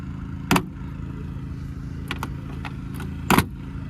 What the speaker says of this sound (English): That door shuts nicely.